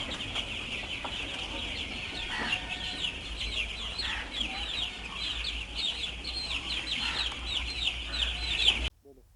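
Chickens cluck steadily on a maize-growing farm near Patna, with a continuous chorus of clucks and occasional crowing, fairly close and loud, over a low rumbling background hum.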